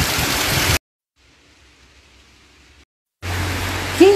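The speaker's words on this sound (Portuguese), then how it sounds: "Em pleno dezembro, ó a chuva que tá tendo aqui." Heavy rain in Bahia in December pours as a dense, loud hiss that cuts out briefly to near silence and then returns just as strong.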